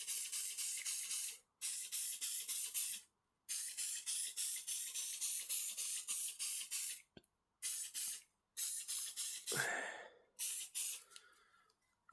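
Cleaner sprayed in long hissing blasts onto a part to shift gunk, several sustained bursts separated by brief pauses, close and steady, with no talk.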